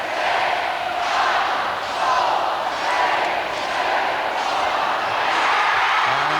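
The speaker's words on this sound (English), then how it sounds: "And the crowd will start the countdown now." Ice hockey arena crowd at a Pirates versus Nottingham Panthers game chanting a countdown over the final seconds, a loud, roaring mass of voices rising and falling in pulses.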